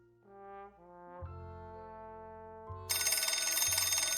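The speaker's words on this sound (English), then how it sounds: "The phone began to ring just as I stepped into the empty salon." In a video game set in 1926, a telephone rings in an empty salon. The ring starts after a short musical phrase and sounds as a steady, loud, rapidly pulsing bell.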